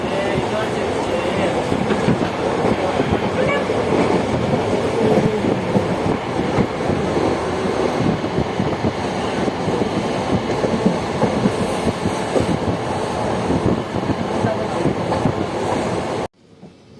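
Parasuram Express train pulling into Angamaly railway station, a steady loud rumble of wheels and carriages with rhythmic rail clatter throughout, ending abruptly.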